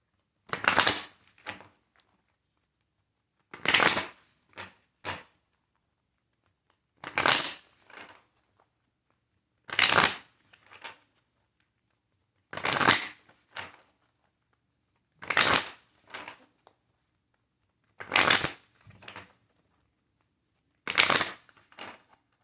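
Tarot cards being shuffled by hand in eight separate bursts about every two and a half seconds, each a crisp riffling rush with short pauses of silence between, close and clear.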